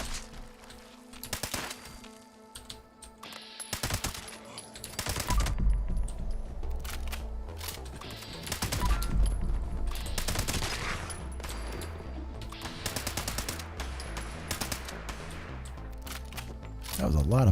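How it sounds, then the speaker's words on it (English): Gunfire in Fallout 76 comes in repeated bursts of rapid automatic shots, loud and close, with short pauses between volleys. "That was a lot of bullets missing there."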